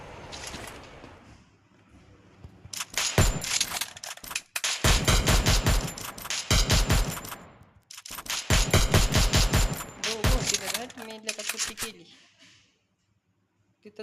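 Rapid automatic gunfire bursts from the video game Free Fire, several loud sustained volleys separated by short pauses, close and prominent, with a player talking underneath at times.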